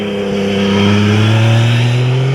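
Loud, close engine of a Yamaha MT-09 Tracer motorcycle, its three-cylinder drone rising steadily in pitch as it pulls hard through the midrange, heard alone.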